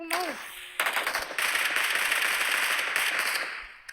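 Rapid automatic gunfire rattles in bursts during a BGMI battle royale match, loud and close with short pauses between volleys, after a brief electronic tone at the start.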